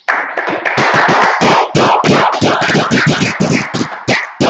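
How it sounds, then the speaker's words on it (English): An audience at a Minneapolis scripture class claps in sharp, rhythmic bursts, loud and close, with brief pauses between groups of claps and no talking over them. "clap it up"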